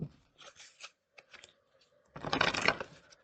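Tarot cards riffle and slap in short, quiet bursts, ending in a denser, louder shuffle close by.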